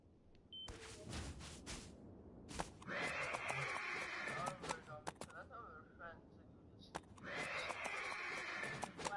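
A horse in a video game whinnies twice, loud and close, amid clattering hoof and impact sounds, with people talking over parts of it.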